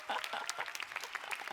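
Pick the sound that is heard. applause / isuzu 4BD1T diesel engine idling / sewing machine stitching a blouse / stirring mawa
applause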